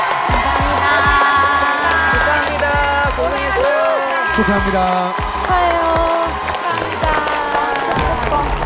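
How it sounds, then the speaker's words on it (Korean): Studio audience applause for a winning five-member team on the TV singing competition Miss Trot Season 4, finals round three, steady and close under bright music, with a voice speaking over it. "박수 한번 주실까요?"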